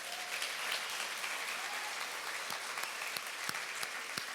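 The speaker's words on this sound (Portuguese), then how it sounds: "dê um aplauso bem forte" A church congregation applauds strongly during a worship service, dense steady clapping from a crowd filling the whole stretch.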